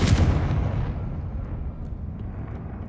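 A fiery spell blast in Hogwarts Legacy on Xbox Series X, one deep booming explosion that hits loud at once and then rumbles away in a long, darkening low-frequency tail.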